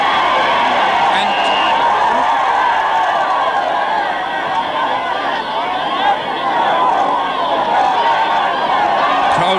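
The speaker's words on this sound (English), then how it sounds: "crowd getting excited here, trying to encourage John" A hurling crowd at a 1983 Munster club final replay between Midleton and Borrisoleigh roars and chatters excitedly as a free is lined up, a dense continuous wall of voices with scattered whoops, while a commentator talks throughout.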